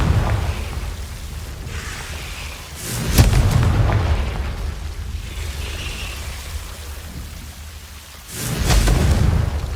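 Fiery Confringo spell blasts from the Hogwarts Legacy game, several loud booming bursts, one sharp hit near the start and another heavy rumbling blast at the end over a low noisy rumble.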